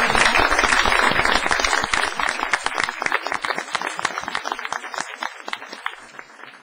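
Audience of students and tutors applauds at a city council meeting, dense clapping that starts loud and full, then thins into scattered individual claps as it fades.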